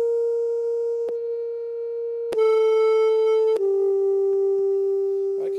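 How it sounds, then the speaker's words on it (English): A steady pure electronic sine wave tone from an FM synthesizer that shifts pitch slightly a few times, marked by brief clicks, loud and close with nothing else present. "you hear it go back to the original sine wave."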